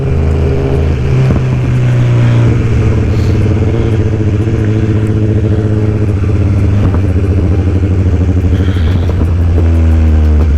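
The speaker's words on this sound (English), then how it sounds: "And this pipe is so loud, it intimidates people." A 2020 BMW motorcycle's loud aftermarket exhaust rumbles steadily up close while riding, a deep throbbing drone with engine clatter and slight rises in revs, no talking.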